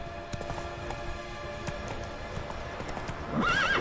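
Roach, a horse in the video game The Witcher 3, clip-clops along in a steady hoof rhythm, with a whinny rising near the end, all fairly loud and close.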